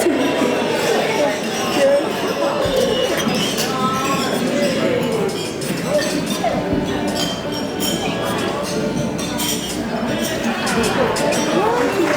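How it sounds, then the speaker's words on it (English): Glasses clink amid a wedding toast, scattered bright chinks spread through loud, constant crowd chatter and cheering from many guests in a busy room. "you guys can join me and raise your glass to Quinn and Jessica"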